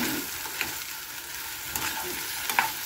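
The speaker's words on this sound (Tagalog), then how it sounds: "So, ihalo na po natin ang ating chicken." Chicken is stirred in a frying pan with aromatics, a steady close sizzle broken by three sharp scrapes of the utensil against the pan.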